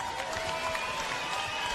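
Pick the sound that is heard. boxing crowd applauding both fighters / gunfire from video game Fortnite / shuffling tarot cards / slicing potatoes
boxing crowd applauding both fighters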